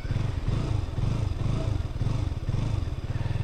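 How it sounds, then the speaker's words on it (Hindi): A motorcycle engine idles while warming up after being started, a close, steady low rhythmic thumping with a slight pulsing clatter and no talking. "बाइक हो चुका है स्टार्ट और थोड़ा गर्म करके निकल लेते हैं।"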